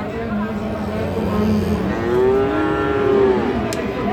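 A household cow lets out a long, drawn-out moo, close by, with the low call rising and falling over a few seconds.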